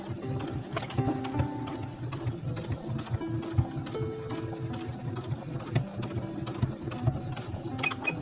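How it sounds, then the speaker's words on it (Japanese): A sewing machine stitches closed the turning opening of a quilted pouch, running with a steady, fast mechanical whir and rhythmic needle chatter close by for the whole stretch. "ここの返し口を縫い合わせます。"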